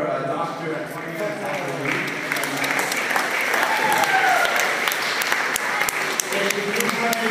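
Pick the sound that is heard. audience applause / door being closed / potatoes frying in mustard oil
audience applause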